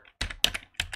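Keys clatter on a computer keyboard as a sudo apt purge command is typed in Ubuntu Linux, coming in three quick close bursts of tapping separated by short pauses.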